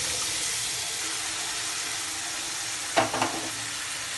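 Mutton keema with boiled kabuli chana frying in a pan gives a constant close sizzle, with a couple of brief scraping knocks from a spoon stirring near the end.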